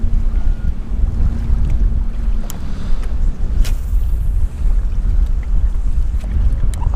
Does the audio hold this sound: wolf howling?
no